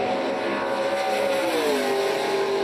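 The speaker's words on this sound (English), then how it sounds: "you can hear them running those engines. They're revving them out just a little bit higher" NASCAR Pinty's Series race car engines drone at a distance, their pitch sliding as they rev, a steady mechanical whine with no voices.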